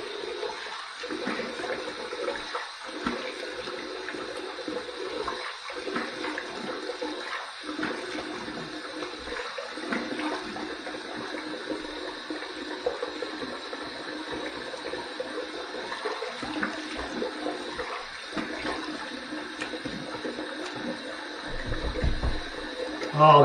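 Tap water runs steadily while a face is rinsed after a wet shave with vintage 1955 shave soap, a continuous close splashing stream with no break from start to finish.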